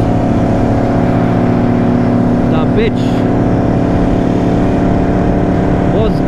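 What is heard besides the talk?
loud superbike engine revving, Yamaha R1M or Kawasaki Ninja ZX-10R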